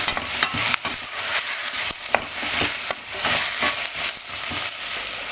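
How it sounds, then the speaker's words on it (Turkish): Diced carrots sizzle and fry in a pot while a utensil stirs them, with scraping clatters over a steady crackling hiss. "Onu da ilave edip kavuruyorum."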